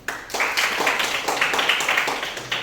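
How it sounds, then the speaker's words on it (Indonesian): Classmates in a maths classroom clap hands in quick bursts, near and moderately loud, with a brief pause at the start. "tepuk tangan teman-teman"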